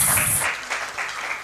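A law conference audience breaks into brief applause, a short burst of clapping that fades quickly.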